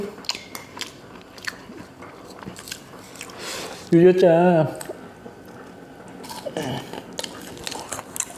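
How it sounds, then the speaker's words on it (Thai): Close, crisp crunching bites of crispy fried chicken amid chewing, with a short louder burst of crunches midway and a voice murmuring between mouthfuls. "อืมกรอบกรุบกรับกรุบกรับเลยครับท่านผู้ชม"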